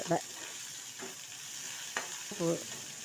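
Dried chillies sauté in a pan for a kovaikai masala, giving a steady soft sizzle with a few brief stirring scrapes and clatters, close and moderately quiet.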